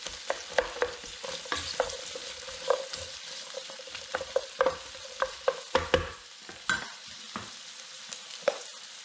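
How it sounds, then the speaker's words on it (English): Red onion sautéing in a pan, a steady sizzle broken by repeated sharp scrapes and clacks of a stirring utensil at an irregular rhythm, close and fairly quiet, with no talking. "I'm going to add the red onion. And we're going to saute just until soft."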